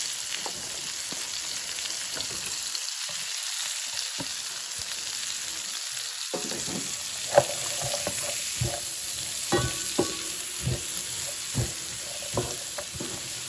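Celery and carrots sauté in a skillet for homemade bolognese, giving a continuous moderate sizzle broken by brief quiet gaps and scattered clinks and scrapes of stirring.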